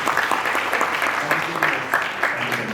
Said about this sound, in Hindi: एक बार जोरदार तालियां विपुल जी के लिए प्लीज